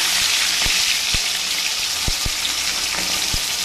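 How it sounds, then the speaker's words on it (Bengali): Fried fish goes into hot oil with cumin seeds in a wok, making a loud, even hiss of frying broken by a few sharp utensil taps against the pan. "কড়াইয়ে জিরে ফোড়ন দিয়েছি, দিয়ে মাছটাকেও দিয়ে দিচ্ছি"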